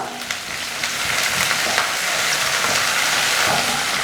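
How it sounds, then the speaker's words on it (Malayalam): Curry leaves hit hot oil with frying ginger and garlic for a spicy chicken fry, bursting into a loud, continuous crackling sizzle with occasional stirring scrapes. "ഇതിനകത്തോട് ഞാൻ കുറച്ച് കറിവേപ്പില ചേർത്ത് കൊടുക്കുകയാണ്. നന്നായിട്ടൊന്ന് ഇളക്കി കൊടുക്കുക."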